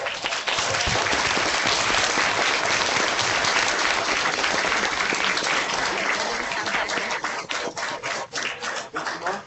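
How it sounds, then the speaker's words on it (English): A warm round of applause welcoming Pro Football Hall of Famer and Redskins great Art Monk, dense loud clapping from a crowd that holds steady and then thins into scattered claps near the end. "join me in giving a warm round of applause hello to Pro Football Hall of Fame class of 2008 and Redskins great Art Monk"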